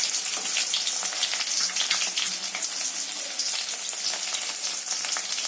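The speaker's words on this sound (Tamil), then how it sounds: "இப்போ எண்ணெய் காய்ஞ்சிட்டு கொஞ்சம் கடுகு பருப்பு, சின்ன வெங்காயம், பட்டை வத்த, கருவேப்பிலை அதில் போட்டுக்கலாம்" Mustard seeds, dal, shallots, dried red chilli and curry leaves fry in hot oil with a dense, bright, continuous crackling sizzle close by and no talking.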